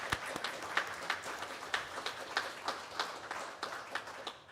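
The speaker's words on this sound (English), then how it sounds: "Let's give them a round of applause." Church congregation at a Christmas Eve service applauding the musicians, a moderately distant round of clapping with individual claps audible as distinct rhythmic peaks throughout.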